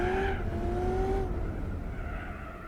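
Worn-out tires on a car in Gran Turismo 4 screech in a sustained tonal squeal over a steady engine drone, the whine sliding as the car spins out, then fading into rumbling engine noise.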